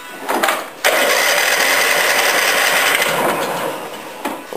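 A small OHV lawn engine, a Briggs or Honda, catches after a brief pull and runs loud and steady at idle with slight unevenness, then winds down near the end.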